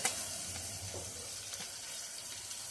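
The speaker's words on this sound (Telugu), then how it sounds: "అది మగ్గే వరకు ఇలా వేపాలి" Tomatoes frying with ginger-garlic paste and onions for a mutton curry, a steady close sizzle throughout with a few soft stirring scrapes, no voices.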